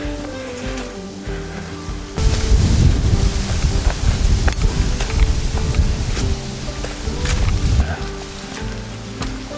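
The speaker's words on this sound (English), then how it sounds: "It's windy" Wind buffets the microphone in heavy rumbling gusts among boulders at Tettegouche State Park on Minnesota's North Shore, quieter at first then loud and blustery for most of the clip.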